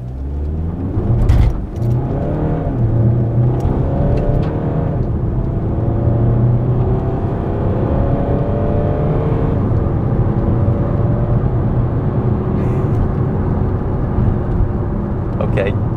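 2020 Audi Q3 Sportback in sport mode launching hard, a deep engine roar rising steadily in pitch as it accelerates through the gears, heard from inside the cabin with some brief talk near the start.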